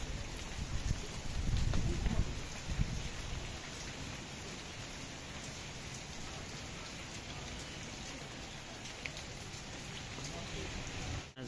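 Steady rain falls on surfaces in wet autumn weather in Turkey, a constant close hiss of drops with a heavier burst of patter early on, continuing without letup throughout.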